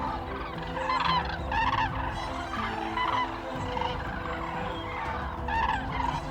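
A wintering flock of common cranes calls continuously: overlapping loud, trumpeting and honking cries repeat in bursts over a steady background of many distant birds, with no talking.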